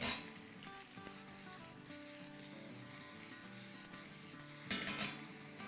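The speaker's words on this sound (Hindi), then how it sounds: "चले इसको अब हम फ्राई करेंगे।" Small pieces of chopped eggplant fry in a pan, a continuous close hiss and crackle of sizzling oil, faint overall with occasional stirring scrapes and a brief louder burst near the end; no one speaks.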